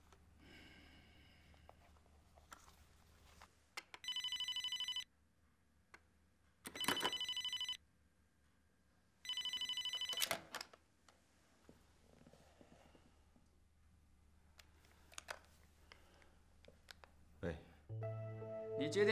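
An office telephone rings in three long electronic bursts spaced a few seconds apart, fairly loud against a quiet room, followed by someone speaking.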